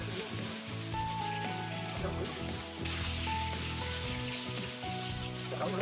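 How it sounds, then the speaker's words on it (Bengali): Marinated fish pieces go one by one into hot oil in a home kitchen, setting off a steady hiss and crackle of frying under a voice talking over it. "এইবার আমাদের যেই মাছগুলো ম্যারিনেট করা ছিল সেই মাছগুলো আমরা এক একে দিয়ে"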